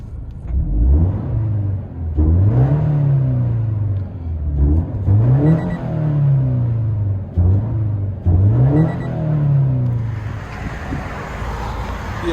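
Heard from inside the cabin, a 2017 Toyota 86 with a double resonator delete and stock muffler revs four times in a row, each rising engine pull falling back to idle, loud and close.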